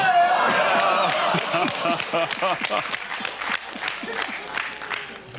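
A game-show studio audience cheers and applauds, a dense burst of clapping and whoops that thins into scattered claps while a voice talks over it.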